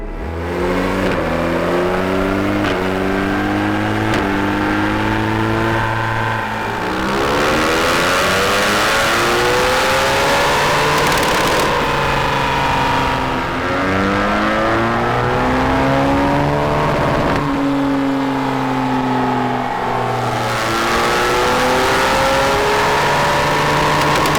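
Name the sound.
BMW R1200 GS Adventure motorcycle engine revving on dyno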